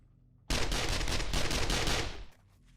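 A turret opens fire in the survival game 7 Days to Die BorderlandZ on Insane difficulty, loaded with brass rounds: a loud, dense burst of rapid automatic gunfire lasting about two seconds before cutting off, with no talking.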